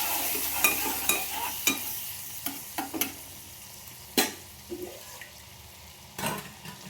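Bay leaf and turmeric fry in a pan of oil, a soft steady sizzle broken by sharp, irregular scrapes and clinks of a spatula stirring against the pan.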